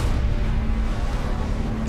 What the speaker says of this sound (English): The explosion begins deep underground.